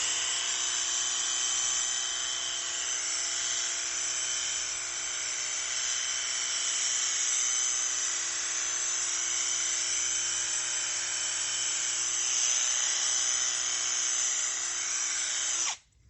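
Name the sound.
cordless 5-in-1 tool washer fan nozzle spraying dry leaves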